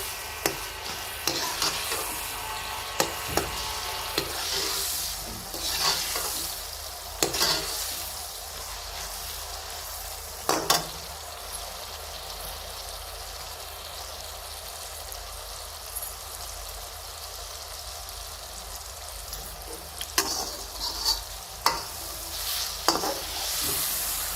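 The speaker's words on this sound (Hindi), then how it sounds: "हम मसालों को अच्छे तरीके से फ्राई करेंगे।" Spices fry in hot oil for aloo pulao while a spoon stirs them, a steady close sizzle broken by repeated scraping clacks of the utensil against the pot, no talk.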